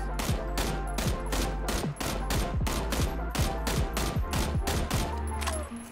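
Rapid assault rifle fire from an M416, AKM or M16A4 in PUBG, with a fast, even string of sharp, close shots and a few short gaps between bursts, and no talking.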